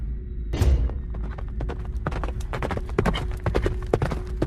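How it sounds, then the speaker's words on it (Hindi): Hooves of a horse pulling a carriage toward a mansion clip-clop in a quick, steady rhythm, close and loud, with a thump at the start. "कोचवान ने बड़ी फुर्ती से घोड़े गाड़ी को हवेली की ओर दौड़ाने लगा"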